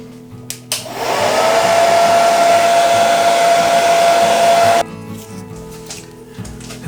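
A hair dryer blows on a mixed-media acrylic painting, switching on with a rising whine, then running loud and close in a steady, even roar for several seconds before cutting off abruptly.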